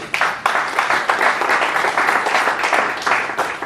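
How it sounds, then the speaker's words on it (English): Loud, close crowd applause at the launch ceremony of the AEDC Wuse Market interconnected mini grid project, many hands clapping in a dense, continuous burst. "So we can give ourselves a round of applause."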